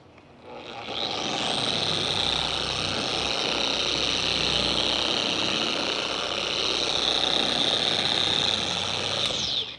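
A car polishing machine spins at its lowest speed on a 30-year-old Mercedes, a steady whirring drone with a hissing edge that starts up after a second and runs evenly until it cuts off.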